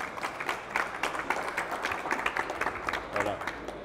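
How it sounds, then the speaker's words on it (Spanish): A crowd applauds steadily, many hands clapping at once, fairly loud and continuous with a few voices mixed in. "Así que un aplauso ahí."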